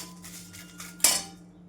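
A utensil scrapes and clinks against a metal kadhai while bay leaves are tossed in it, with soft scraping building to one sharp metallic clank near the end.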